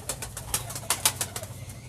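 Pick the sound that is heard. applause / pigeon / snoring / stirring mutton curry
pigeon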